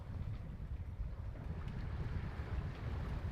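A sailboat out on open water in wind, small choppy waves slapping the hull in a steady low rumble and wash, with wind buffeting the microphone throughout and no voices.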